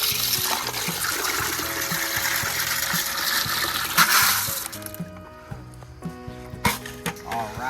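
Washed pea pebbles poured into a DIY pool pond filter make a long rushing, rattling cascade into water, then scattered clicks and splashes as the flow tapers off, up close with no talk.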